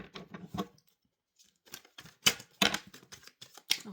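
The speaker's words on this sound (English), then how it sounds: "Keep shuffling." Tarot cards being shuffled by hand in a series of crisp riffling, snapping bursts, a short quiet pause, then louder rapid flurries of card flicks close up.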